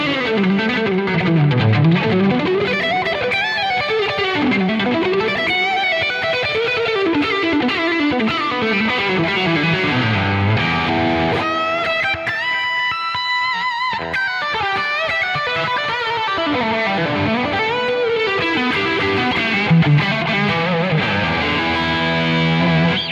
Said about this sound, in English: It's great as a kind of higher gain lead sound.